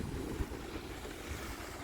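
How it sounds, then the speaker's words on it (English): Steady ocean surf rolling in with the incoming tide at Tsawwassen and Point Roberts, a continuous low wash of waves buffeted by wind noise on the microphone, with no voices. "The waves are getting louder."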